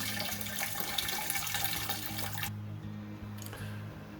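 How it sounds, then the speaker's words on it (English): Wort drains from a brew bag into a pan in a steady splashing trickle that thins out and weakens partway through, heard up close. "let most of that water run out, and then you can just squeeze on the bag and get the rest of the wort out into the pan"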